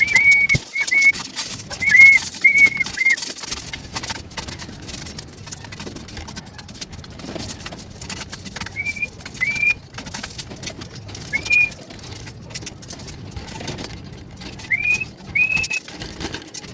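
Pigeons in a backyard loft during a morning routine give short, bright whistled calls in scattered pairs, some close and some farther off, over a low steady background rumble.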